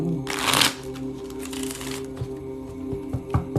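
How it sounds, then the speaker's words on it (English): Tarot cards being shuffled close up, a dense riffling burst near the start followed by softer, intermittent card flicks and taps, with no talking. "I wanted to shuffle here."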